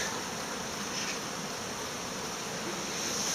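Honey bees at a hive in winter, a second small hive colonised by an August swarm, make a steady, dense buzzing hum that holds evenly throughout without pause, with no talk.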